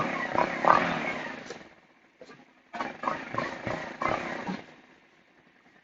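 A Venom X20 125cc motorcycle with a newly replaced exhaust and silencer idles in neutral. Its close, rough engine note rises and falls in two bursts separated by a short quiet gap.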